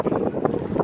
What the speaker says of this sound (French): Désolée pour le vent